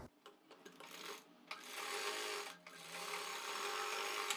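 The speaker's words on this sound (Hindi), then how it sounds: "यहाँ पर हमने अपनी सिलाई लगा दी है" Sewing machine stitching a neck strip onto a kurti, a steady close mechanical whir running in bursts with brief stops and clicks between them.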